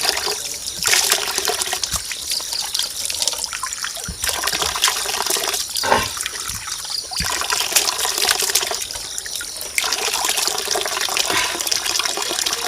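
Water trickles and splashes steadily at a spring used as a drinking water source on a kaingin farm. The flow is continuous and fairly loud, with a few sharp drips and knocks.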